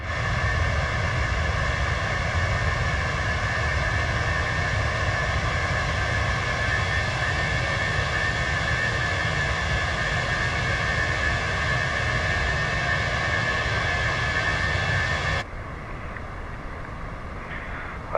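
Cockpit hum of an Airbus A319-100 airliner in Microsoft Flight Simulator, a steady loud drone with tonal whine layered over broadband rumble, holding constant before dropping suddenly quieter near the end.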